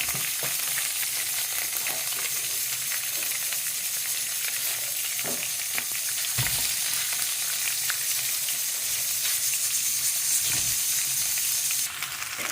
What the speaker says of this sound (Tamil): வெங்காயம், தேங்காய், இஞ்சி, பூண்டு, பச்சை மிளகாய், இது எல்லாத்தையும் நல்லா வதக்கிடுங்க